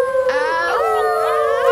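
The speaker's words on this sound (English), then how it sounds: "It's time to howl!" Cartoon puppies howl together in a sustained, wavering chorus of loud, close voices with sliding pitch, lasting under two seconds.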